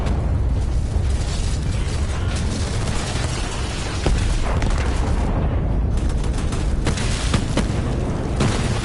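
Grenade blasts in Borderlands 3 boom amid constant loud gunfire and chaotic combat noise, a dense, unbroken barrage of bursts and pops throughout.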